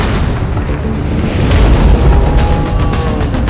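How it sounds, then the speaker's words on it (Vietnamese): Loud, rumbling booms and crackling blasts of cannon fire fill the clip, dense and continuous like cannon fire and explosions with no voices. "Quân binh xả pháo vào quả ngưu."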